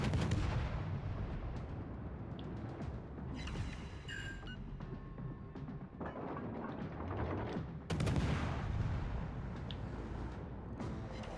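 Naval guns boom in World of Warships, several heavy blasts and rumbling volleys over a dense roar of battle, loud and close, with shells and impacts overlapping and no talk.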